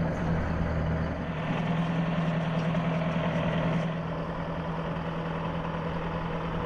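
An armored Humvee engine idles steadily with a low, even rumble while the vehicle is guided aboard a knelt C-17 transport aircraft, loud and close throughout with no voices.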